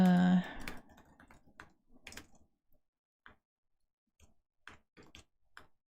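Scattered clicks of typing on a computer keyboard, fairly close and quiet, coming in irregular short bursts with pauses, following a brief bit of talk at the start.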